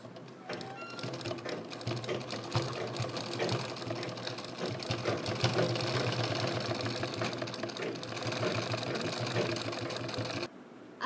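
A sewing machine runs a steady straight stitch through a folding jute purse, a continuous close mechanical whir lasting nearly the whole stretch before cutting off near the end.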